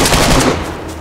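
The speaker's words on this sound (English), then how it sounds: "the guy behind me shooting me" Rapid, loud gunfire in the video game DayZ during a base attack: a dense, close burst of shots fills the whole second without pause.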